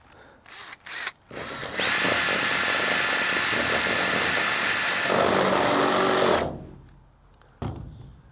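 A hole saw cuts a hole in metal plate for a hybrid exo cage, a few short power-drill bursts, then a loud, steady high-pitched whine for about five seconds before spinning down, close up and alone.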